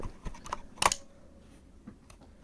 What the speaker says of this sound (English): You can literally try to lift the whole entire keyboard up with this, and this stupid thing won't come out.